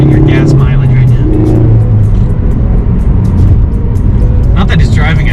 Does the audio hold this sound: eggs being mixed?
no